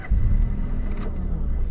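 A car engine turns over and settles into a steady low rumble during a driving lesson, heard close from inside the cabin with no speech over it.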